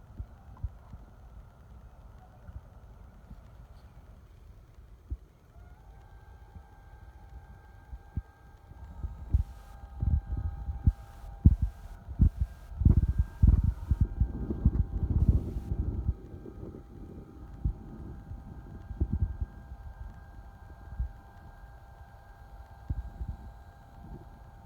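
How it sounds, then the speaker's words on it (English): A linear actuator on a DIY automatic solar tracker drives a solar panel from east to west, giving a steady electric motor hum that starts a few seconds in and runs continuously beneath intermittent low rumbling knocks. "So this is my solar panel that I just hooked up the actuator, and I'll run it east to west right now."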